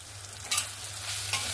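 Ground Kashmiri chili powder and cumin powder being stir-fried in a pan with a fish-head cabbage dish, a soft continuous sizzle with brief scraping stirs, close and steady over a low hum.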